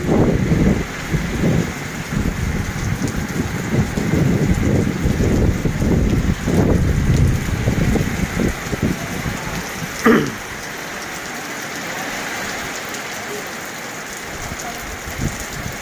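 Heavy evening rain with a faint rumble of thunder: a loud, steady downpour that hisses and patters, easing into a quieter, even wash of rain near the end.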